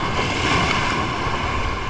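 Steady, loud rushing surf breaking on rocks fills the whole stretch, a continuous wash of water with wind noise and no voices.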